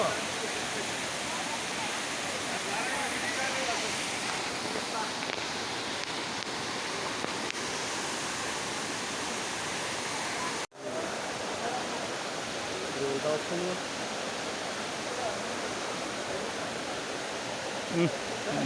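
A loud, continuous rush of falling water from a waterfall at Maredumilli fills the whole clip, steady and close, with a brief break partway through.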